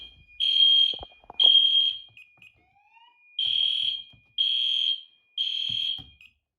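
A fire alarm sounds in five loud, shrill, evenly spaced bursts during a security system test, with faint clicks and handling noise in the quiet gaps between them.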